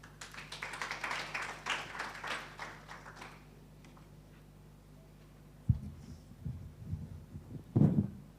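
An audience at an International Mother Language Day event claps to welcome guests from the Department of Education. The dense applause fades after a few seconds, and then scattered thumps and taps close to the microphone follow in a quieter hall.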